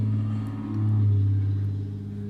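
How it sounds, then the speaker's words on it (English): A loud truck passes close by, its low engine rumble steady and then swelling briefly at mid-pass before easing off. "that truck's loud"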